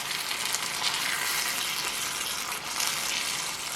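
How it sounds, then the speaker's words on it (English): Calabacitas vegetables bubble and sizzle in a single skillet, a steady soft hiss of simmering with light crackle, close and alone with no voices. "you're going to let everything simmer together for just a few minutes"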